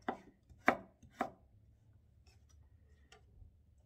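A knife slicing ingredients into thin 0.2 cm pieces on a cutting board: three sharp, close chops in the first second and a half, then faint ticking taps over quiet room noise.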